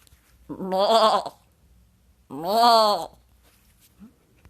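Two long wavering bleats from a goat called the Inspiration Goat, each lasting about a second, loud and close with quiet pauses between them; the cries may be a person's voice imitating a goat.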